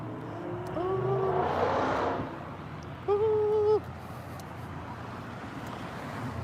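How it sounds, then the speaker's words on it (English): A loud car engine sweeps past on a street, swelling and fading over a couple of seconds, then a short horn-like tonal blast rings out against steady traffic and wind noise. "Oh my gosh, there's a loud car over there."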